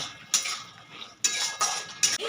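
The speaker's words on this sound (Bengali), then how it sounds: "এরপরে আঁচটা আমি জোরে দিয়ে ভালো করে মিশিয়ে নেব" A metal spoon clatters and scrapes against a pan as chicken in soy sauce and sugar is stirred over high heat, several sharp knocking strokes in uneven rhythm, close and clear with no voices.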